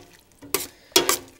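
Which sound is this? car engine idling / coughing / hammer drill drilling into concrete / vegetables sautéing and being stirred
vegetables sautéing and being stirred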